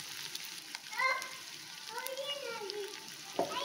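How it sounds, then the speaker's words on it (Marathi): Sliced onion sizzles faintly in a pan while it is stirred for homemade noodles, a soft, low crackle with a few brief scraping sounds and quiet voices in the background. "कांदा हलवून घ्यायचा।"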